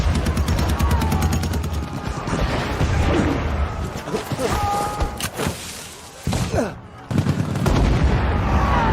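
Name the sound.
gunfire in battle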